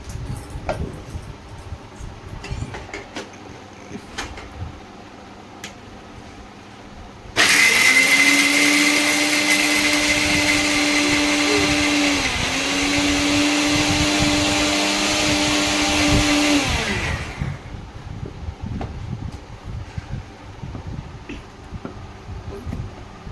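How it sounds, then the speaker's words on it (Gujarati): A mixer grinder grinds peanuts, coconut, coriander and curd into chutney, a loud steady whirring roar lasting about ten seconds with a brief dip in pitch midway, then cutting off to quiet room sound. "તો ચાલો હવે આપણે ચટણી પીસી નાખીએ. શિંગદાણા પીસી નાખીશું."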